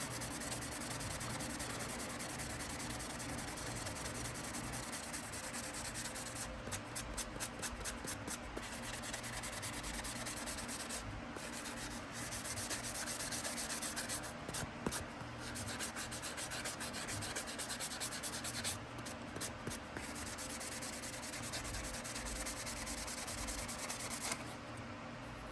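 A folding hunter knife handle being sanded with 1000 grit sandpaper, soft steady rubbing strokes with bursts of quicker scratchy passes, close and quiet, no talking.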